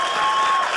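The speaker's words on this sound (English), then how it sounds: "give them a round of applause" An audience at a comedy show gives Vietnam War veterans a brief, dense burst of applause, a steady wash of clapping from many hands.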